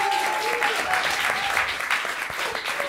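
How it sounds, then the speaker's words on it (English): Dense audience applause for Apogee Studios at an evening event celebrating Prince, steady and sustained clapping from a crowd throughout, with no talk over it. "So can everybody please give a big round of applause for Apogee Studios?"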